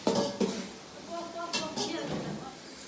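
A lid clatters onto a pot of beef biryani in two short metallic clanks, one near the start and one midway, while a voice talks over the kitchen sounds.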